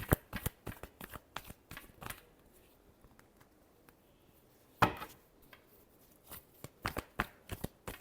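Tarot cards being shuffled by hand in a quiet room, with sharp riffling bursts and soft slaps arriving in irregular clusters, alone and close.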